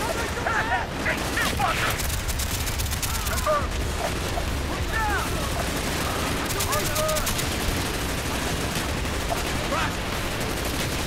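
Rapid machine gun fire in Call of Duty: Black Ops comes in dense, sustained bursts with battle noise and scattered booms, and a voice talks over the shooting.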